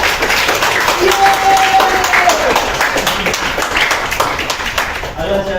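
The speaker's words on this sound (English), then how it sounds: "Clap for this guy." A class in a school oratory session claps for a student speaker, with continuous applause and faint voices mixed in, tapering off near the end.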